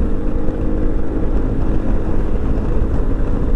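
A Yamaha XMAX 300 scooter engine drones loudly and steadily during a test ride, its low hum mixed with heavy wind buffeting on the microphone, with no talk over it.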